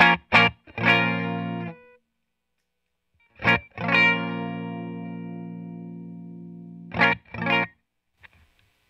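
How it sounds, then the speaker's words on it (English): Electric guitar on its bridge pickup played through a Carl Martin Andy Timmons Signature compressor pedal: a few quick plucked notes, then one long evenly sustained chord that rings for about three seconds, then two more short stabs, with no talking. "So let's take that spiky bridge pickup sound, and let's see if we can tame it with the compressor."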